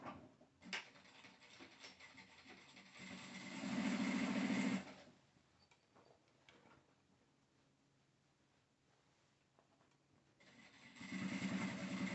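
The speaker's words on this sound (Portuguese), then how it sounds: "Aqui eu vou desfazer e fazer a costura." Domestic sewing machine running in two short bursts while stitching a seam on a patchwork bag lining. Each burst is a steady mechanical whir, close and moderately loud, separated by quieter handling noise.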